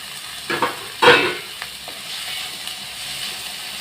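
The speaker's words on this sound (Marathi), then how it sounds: "आता याच्यावर हे बारीक कट केलेलं कांदा आणि टोमॅटो दोन्ही एकदम घालायचं." Chopped onion and tomato hit hot oil and seasoning paste in a pan for okra bhaji, giving a soft steady sizzle with a couple of louder stirring scrapes early on, no voices.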